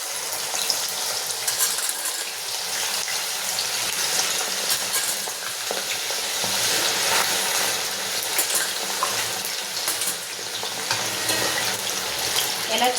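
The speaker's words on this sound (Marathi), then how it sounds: "लाल कंद, बटाटा आणि सुरण आपण तळून घ्यायचं." Red yam, potato and elephant foot yam deep-frying in oil for undhiyu, a loud, dense, continuous bubbling sizzle with slight surges, close up and unbroken throughout.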